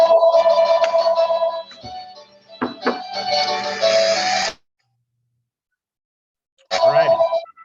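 A telephone rings during a church service, bursts of warbling electronic trill interrupted by clattering and handling noises, then a silent gap before the ring briefly resumes; a voice may be faintly present.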